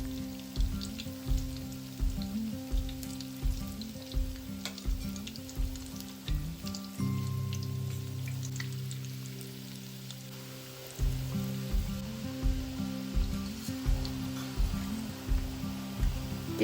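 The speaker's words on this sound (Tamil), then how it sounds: "இதை இப்படி 2 பக்கமும் பிரட்டி கோல்டன் ப்ரௌன் ஆகும் வரைக்கும் பொரித்து எடுக்கணும்." Fish cutlets fry in hot oil, a steady close sizzle with rhythmic bursts of crackle, broken by a stretch of louder, denser bubbling in the middle.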